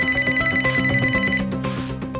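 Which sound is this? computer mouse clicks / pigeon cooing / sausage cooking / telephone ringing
telephone ringing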